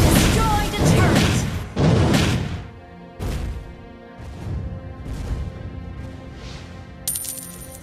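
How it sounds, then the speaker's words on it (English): A turret being destroyed in the Mobile Legends video game: a few heavy crashing impacts in quick succession, loud and close, fading into ringing metallic debris and a brief chime, with game voice lines between. "Your team destroyed a turret!"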